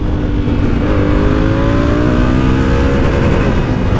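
Honda Africa Twin motorcycle engine revving hard during a test ride, a loud close roar with rising pitch sweeps held steadily under wind noise.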